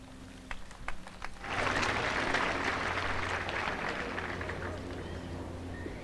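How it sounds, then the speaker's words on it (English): A graduation ceremony audience breaks into loud sustained applause after a few scattered claps, the dense clapping holding steady and fading slightly toward the end. "kindly, I invite you to applaud your family and your guardians who"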